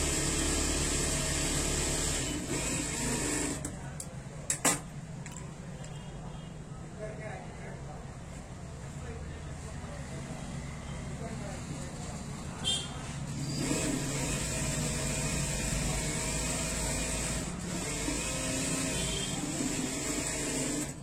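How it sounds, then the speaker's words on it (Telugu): A sewing machine stitches the side seam of a blouse with a steady mechanical whir and hum throughout, briefly dipping and picking up again, while a person talks over it. "ఇటు సైడ్ కూడా మనము 2-3 స్టిచెస్ వేసుకోవాలండి"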